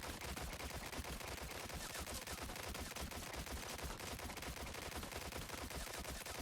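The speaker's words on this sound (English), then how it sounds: "Watch me shoot this thing as fast as possible and watch how fast the ammo goes down" Matilda handgun firing in rapid, unbroken automatic bursts in Resident Evil 4, a dense and loud stream of shots that runs for the whole stretch with no pauses or talk.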